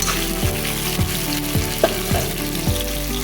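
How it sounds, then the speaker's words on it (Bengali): Chicken curry masala sautés in hot oil with a steady close sizzle, broken by regular clanks and scrapes of stirring against the pan. "এখন আমি ভালো করে কষিয়ে নেব। যত সময় তেল না ছাড়বে তত সময় কষাবো।"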